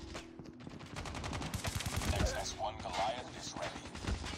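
Brutal, heavy gunfire from a gun in Call of Duty Mobile, rapid and dense bursts of shots running throughout alongside other game noise.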